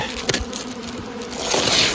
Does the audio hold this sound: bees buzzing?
yes